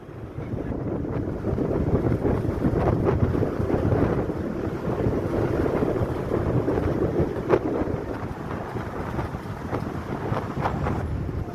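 Strong wind blows through the Andipatti mountain pass near Theni, a steady loud roar with buffeting gusts hitting the microphone for about eleven seconds, with no talking.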